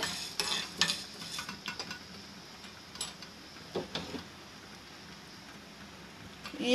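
Coriander seeds dry roasted and stirred in a pan, with close, intermittent scraping and rattling bursts that thin out to a quiet hiss.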